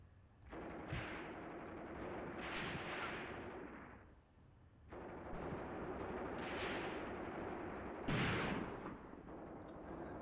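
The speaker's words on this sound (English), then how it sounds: "there's still bullets whizzing about our ears here" Combat in the WWII tactical game Graviteam Tactics: sustained, dense gunfire and bullets whizzing past. The rumble rises and falls in two long waves, with a brief lull midway, a sharp louder burst near the end, and no speech.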